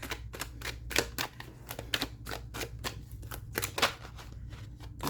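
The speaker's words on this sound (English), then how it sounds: "I just want to give the cards a really good shuffle." A deck of tarot cards gets shuffled in quick riffling bursts, crisp rhythmic flicks of card stock repeating many times over a faint low hum, close and without talk.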